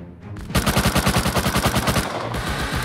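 Loud automatic gunfire from the video game Rust rattles out in a rapid, even stream of close shots after a brief quiet start, then runs on slightly softer.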